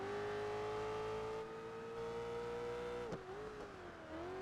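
A Ferrari FXX engine drones steadily at high revs while driving in Project Gotham Racing 4, its tone dipping briefly with a quick shift or bump near the end before climbing again.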